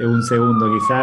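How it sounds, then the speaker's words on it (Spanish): Ambulance siren wailing outside during a press conference, a steady rising and falling tone under close speech throughout. "Tenemos una ambulancia pasando por aquí afuera."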